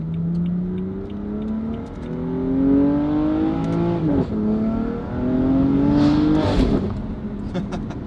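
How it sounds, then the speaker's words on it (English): BMW F8x M3/M4 with the S55 twin-turbo engine and a Valvetronic Designs equal-length exhaust, revving through several rising pulls with crisp gear changes and turbo whoosh, loud and close. "Just hold the throttle a little bit, build some boost, and just flap."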